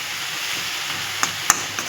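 Banana flower, potato and chickpeas fry in a pan with a soft, steady sizzle, broken by a couple of sharp little pops or utensil taps near the end.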